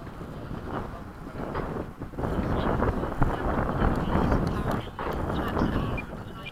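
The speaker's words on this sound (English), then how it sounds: "The wind is really awful." Heavy wind buffeting a microphone at an airfield with an A-10 aircraft, a loud low rumbling roar with gusty surges and brief dips, steady for several seconds with no clear talk.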